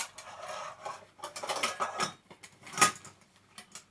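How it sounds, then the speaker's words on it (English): Metal camping cookware from a two-person pot and frying pan set is handled nearby, giving irregular clinks, scrapes and light clatters of pans and lid in quick bursts with no talk. "take the frying pan, I'll take the lid"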